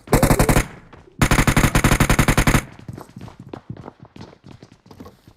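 Two long bursts of rapid automatic gunfire in BGMI ring out loud and close, separated by a brief gap, then give way to quieter scattered footsteps and clatter.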